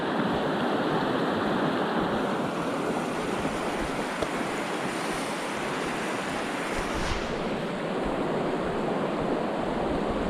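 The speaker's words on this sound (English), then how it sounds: "Right alongside the river." A river rushes beside a backcountry hiking trail on the Great Divide, its steady broadband roar of flowing water unbroken and fairly close, with some wind mixed in.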